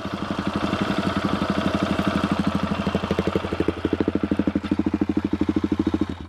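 A 2021 Suzuki DRZ400SM supermoto rides off road, its single engine chugging in a close, rapid, even train of thumping pulses that grow slightly punchier toward the end.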